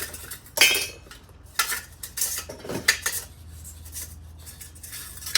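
Burned stainless steel pot and charred stove remains handled after a fire, giving several sharp metallic clanks and scrapes with rattling clinks between them, close and fairly loud, with no talk.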